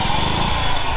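The tiny engine of the world's smallest car idling close by, a steady rapid putter with an even, buzzing rhythm, heard alone for a brief moment.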